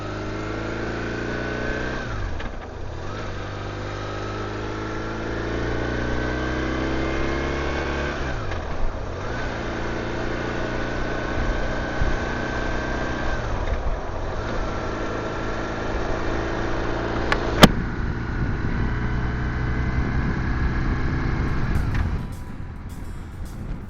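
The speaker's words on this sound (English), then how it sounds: "listen to that beautiful Boxer engine sound before we arrive" BMW touring motorcycle with a Boxer engine running on an English road near Stonehenge: a steady, droning mid-pitched engine note with rhythmic dips as the rider shifts or eases off, then rising again, close and continuous.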